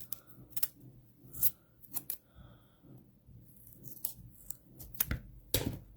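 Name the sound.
scissors cutting foam tape into thirds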